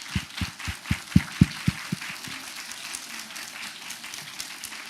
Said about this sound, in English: I want you guys to give them all a round of applause.